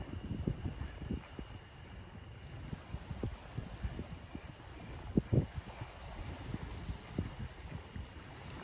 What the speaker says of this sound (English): Nice little breeze blowing in this evening.